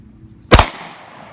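A single sharp, loud shot from a Springfield Armory XDS .45 compact pistol, cracking hard and then ringing briefly in a short decaying tail.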